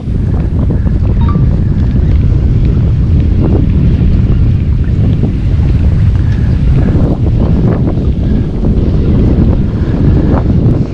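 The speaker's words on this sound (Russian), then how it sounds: "Поднялся очень сильный ветер." Strong wind gusts roar steadily across a microphone beside a river while fishing, a loud, continuous low buffeting with no speech, sustained throughout.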